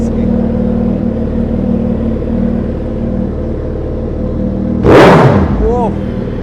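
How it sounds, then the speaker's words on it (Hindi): A 2014 Suzuki Hayabusa motorcycle with a straight-piped exhaust: a steady low rumble runs throughout, then a loud, sharp engine burst fires up near the end and tails off. "फिर उसके बाद इसे फायर अप करते हैं। स्ट्रेट पाइपिंग की हुई है इसकी।"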